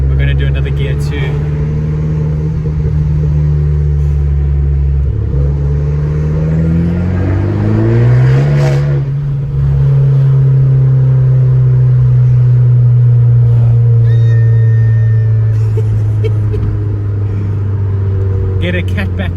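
A loud car with an aftermarket exhaust rumbles and revs close by, climbing in pitch as it accelerates through the gears, while someone talks over the engine.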